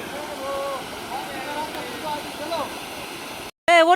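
Water flows over a village check dam with a constant broadband rush close by, while voices talk over it and briefly break in near the end.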